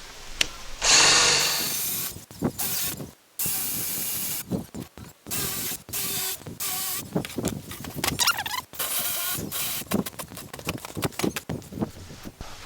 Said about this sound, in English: we're going to drill these out down to probably maybe this depth